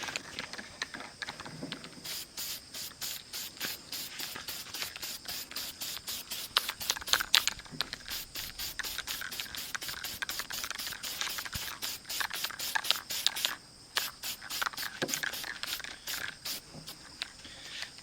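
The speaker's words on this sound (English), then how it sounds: "when I spray just a little bit of this black on there" Short bursts of black spray paint hiss onto Canada goose decoys being repainted, close and fairly faint, in a quick stuttering series of pulses with brief gaps between them.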